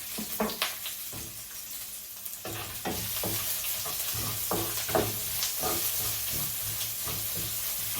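About 55 grams of onion fries in oil with spluttered mustard seeds, giving a close, steady sizzle broken by repeated scraping and clattering as it is stirred.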